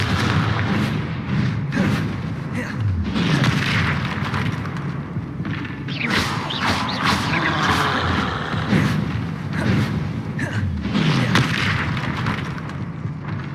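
Video-game spell blasts, including Confringo explosions, boom and burst repeatedly in a loud, dense string of impacts with crackling debris between hits.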